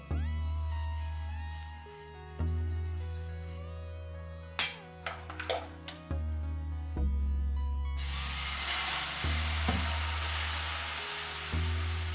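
Suji chilla frying in a little oil in a pan, with a soft crackling sizzle that swells into a steady hiss in the second half, accompanied by a few brief clinks of utensils.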